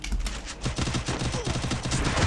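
An MP40 submachine gun fires in Free Fire: a dense, continuous stream of rapid shots, loud and close, with no pauses.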